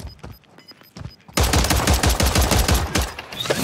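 Rapid bursts of automatic gunfire from the Call of Duty: MWIII gun fight mode, loud and close, rattling continuously for a couple of seconds after a brief quieter stretch of scattered shots.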